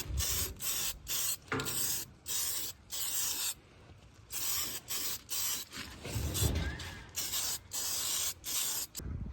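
Short bursts of aerosol spray primer coating a Toyota car grill, repeated hissing pulses of roughly half a second to a second with brief gaps, close and fairly loud, outdoors at sunset.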